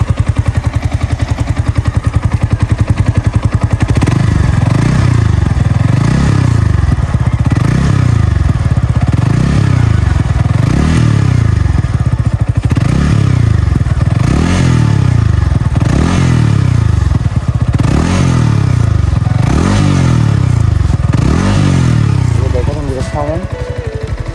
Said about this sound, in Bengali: যারা ইঞ্জিনের সাউন্ড শুনতে চান তাদেরকে এখন ইঞ্জিনের সাউন্ড শোনাবো